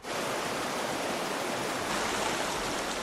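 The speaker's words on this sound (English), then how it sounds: "I had a small rapid to negotiate." River rapids rushing steadily on a canoe journey, a loud, continuous broadband roar of fast water close by, with no voices over it.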